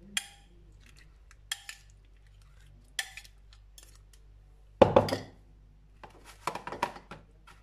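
Metal utensil clinking against a pan while stirring drunken shrimp cooked in gin, a few sparse light taps followed by a louder scrape and a cluster of clinks near the end, close by in a quiet kitchen.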